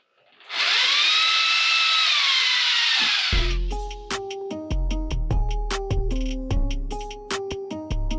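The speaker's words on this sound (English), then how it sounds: "A little spritz helps the drill bit stay fresh." A drill bit bores into a Suburban 8.1 motor mount, a steady high grinding whine for a few seconds, then stops and gives way to a loud run of ringing metallic taps and knocks.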